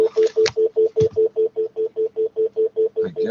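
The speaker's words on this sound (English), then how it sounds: "I guess that's what the call screening sounds like" Telephone call screening tones, a rapid regular series of short electronic beeps at an even pitch, with a few faint voice fragments near the start and end.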